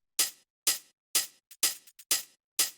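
Up-front hi-hat sample in a minimal tech house track: loud, close, bright hits in a steady pulse with a couple of quick shorter ghost hits squeezed between them, played on their own.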